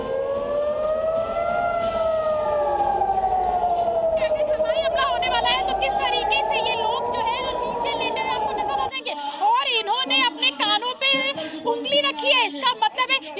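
A civil defense war siren wails loudly during a mock air-raid drill in Lucknow, its rising and falling tone running for about nine seconds before people start talking nearby.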